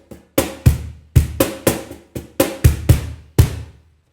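Hand-played cajon in a samba pattern, sharp slaps mixed with deep bass thumps from the right and left hands, about eleven strokes in a steady syncopated rhythm, close and dry with no voices.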